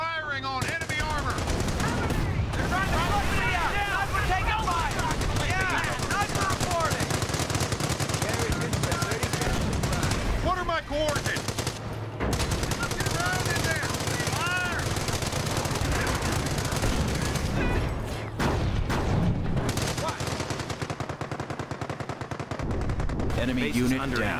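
Heavy gunfire, machine-gun bursts and shelling from a Company of Heroes battle over Cherbourg, loud and nearly continuous for the whole stretch, with radio-style unit voices calling out over the combat.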